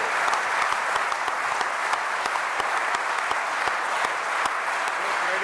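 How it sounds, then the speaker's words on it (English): Sustained applause from an audience gathered in the old library of Guildhall in the City of London, dense steady clapping with sharper individual claps standing out, filling the whole stretch at even volume without talk. "So please give a round of applause to these agreements"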